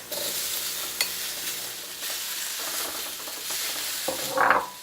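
Chopped red peppers frying in a pan with a steady, bright sizzle, stirred throughout with scraping utensil strokes and a louder clatter near the end, close and without speech.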